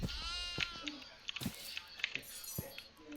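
Several short goat bleats from a video game, Devour, ring out in quick succession, with light clinking and shuffling around them.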